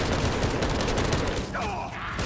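Rapid, sustained gunfire from a Black Ops 3 Zombies match, dense bursts rattling loudly and continuously, with a brief electronic tone near the end.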